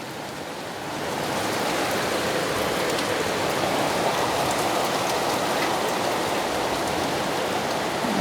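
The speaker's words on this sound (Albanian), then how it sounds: "Breshri vazhdon akoma" Hail and rain falling in a storm, a dense, steady hiss of drops and pellets striking surfaces, swelling in the first second and then holding evenly at moderate loudness.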